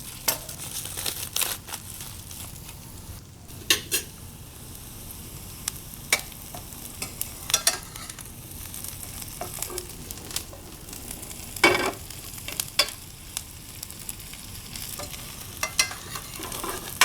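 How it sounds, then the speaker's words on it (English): Onions and garlic spread in a single layer fry in a pan, giving a soft continuous sizzle broken by frequent crackles and stirring scrapes, close and moderate in level. "So single layer of the onions and garlic, so it caramelizes nicely."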